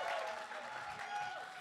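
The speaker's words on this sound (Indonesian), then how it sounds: "Beri tepuk tangan untuk Kurnia." A crowd applauds for a participant named Kurnia at an Indonesian educational class on lifestyle and saving money. The clapping is faint, dense and steady, and it runs the full length without a break.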